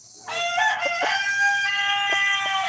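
Chickens in a backyard flock with geese nearby crow loudly and steadily, harmonic rooster calls layered with soft clucks, close and unbroken for the whole stretch.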